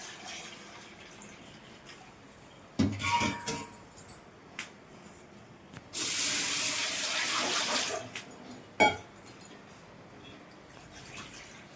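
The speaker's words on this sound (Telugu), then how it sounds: "ఈ గిన్నెతోటి 7 గిన్నెలు నీళ్ళు పోసుకోవాలండి" Water is poured bowl by bowl into a cooking pot for semolina, with splashing bursts of pouring separated by quieter pauses, close by, and a metallic clink near the end.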